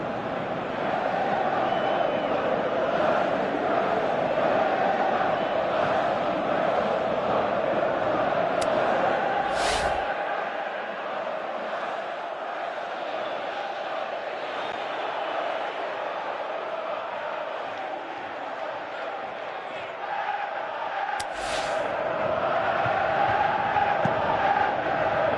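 A video game football stadium crowd murmurs and roars in a sustained wash of noise, swelling and dipping across the match with brief sharp accents, heard alone without commentary.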